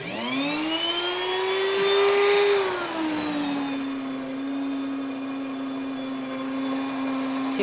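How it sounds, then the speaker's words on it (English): A grain mill grinds red and white wheat berries with a steady, loud electric whine that rises in pitch, dips slightly, then settles into a continuous high motor drone with gritty grinding texture. "when it comes to your grinder that you turn it on first before you put your wheat berries in"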